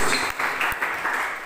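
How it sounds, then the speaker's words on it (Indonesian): Applause from a church congregation during a sermon, a steady wash of hand clapping filling the room at close range for the whole short stretch, with no voices rising above it. "Beri tepuk tangan terbaik"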